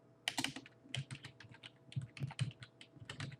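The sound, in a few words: typing a command on a computer keyboard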